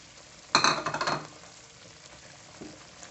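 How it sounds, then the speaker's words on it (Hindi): Chana dal halwa with dry milk is stirred in a pan, a quick run of scraping, clinking strokes close by, then a quiet pause and one faint final scrape. "और इसे अच्छे से मिक्स कर लेंगे"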